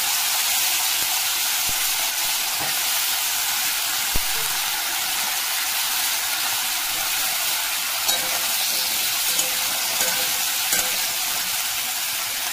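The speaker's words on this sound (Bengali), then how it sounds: "জিরে ফোড়ন দিয়েছি, তেজপাতা লঙ্কা ফোড়ন দিয়েছি, ফুলকপিটাকে দিয়ে দেবো" Cauliflower fries in hot oil after a tempering of cumin, bay leaf and chilli, giving a steady bright sizzle and hiss with a few light knocks of stirring.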